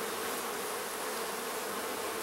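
Honeybees buzz in a steady, dense drone close by while an open hive is inspected, with no pauses and no voices.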